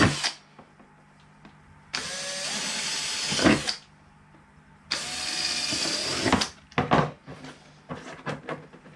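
An electric drill whirs in two bursts of a couple of seconds each, close by, drilling holes in a bonsai box, followed by clattering and handling noises.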